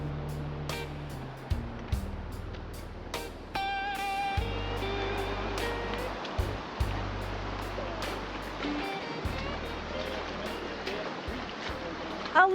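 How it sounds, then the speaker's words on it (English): East Fork San Gabriel River flowing, a steady rushing wash of water close by, with a low rumble and intermittent knocks and clicks over it. "The seclusion, nobody around, nature, the serenity, and the sounds of the river."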